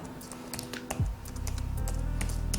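Rapid, uneven clicking of keys on a computer keyboard, close and fairly clear, with a low hum rising in the background partway through.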